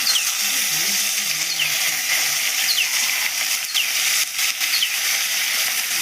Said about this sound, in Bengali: এবার আমি চিংড়ি মাছটা ভেজে নেবো আগে